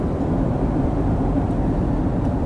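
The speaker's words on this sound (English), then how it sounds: "plane engine." Steady, loud low-pitched drone of an Air Canada airplane engine heard from inside the cabin, continuous and unchanging throughout.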